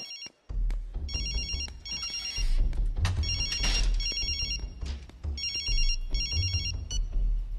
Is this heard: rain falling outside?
no